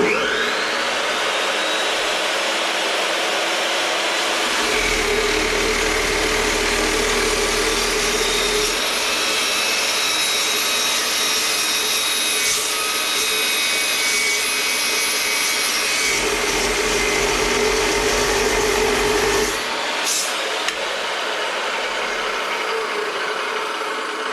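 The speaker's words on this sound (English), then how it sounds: "All right, let's do a first cut on this baby." A new metal cut-off saw runs with a loud steady motor whine, bogging into two long grinding cuts through clamped stock, then spins freely again, heard close and alone.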